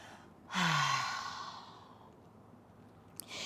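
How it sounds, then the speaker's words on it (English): A single long open-mouth exhale during a yoga forward fold, close and breathy, fading gradually, followed by a faint short breath. "Open mouth exhale as you fold."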